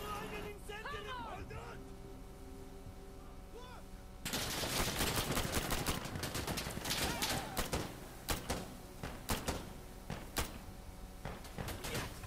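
Gunfire in Insurgency Sandstorm: after a quieter opening with voices, sharp shots and rapid bursts crack loudly and keep going, mixed with people talking.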